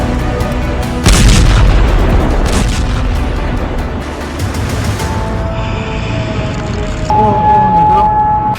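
Bombing and missile strikes in a news report on the Iran–America war, with heavy booms and a rumbling blast near the start, then a sustained roar and tonal whines layered over it.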